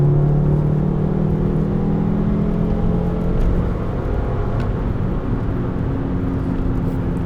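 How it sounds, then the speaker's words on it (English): A VW MK5 Rabbit accelerates at full throttle in second gear, a loud, close in-cabin engine drone and rumble that holds steady through the run, with no talk. "There's a bump right here that I like to hit, and then I'm gonna floor it through here."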